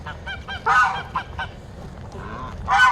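Geese honking in a few loud bursts close by, with short gaps of quieter calls between them and no talking.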